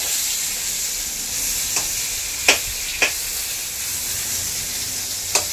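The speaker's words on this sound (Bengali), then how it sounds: "এই যে বেগুনটা ভাজা হচ্ছে, বেগুনটা ভাজা হোক" Brinjal frying in oil in a wok, a steady loud sizzle throughout with a few sharp spatters and pops, close up and without talking.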